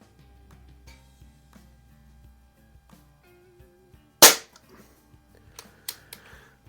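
A Crosman 1701p air pistol fires an RWS R10 wadcutter pellet in a single sharp, loud crack at close range. Faint clicks and handling noises come before and after it in a quiet room.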